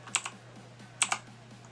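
Keys pressed on a Z-77 computer keyboard with light-up keys, giving two quick pairs of sharp clicks about a second apart, close and clear over a faint steady hum.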